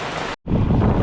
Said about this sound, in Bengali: এই যে খুব বৃষ্টি হচ্ছে।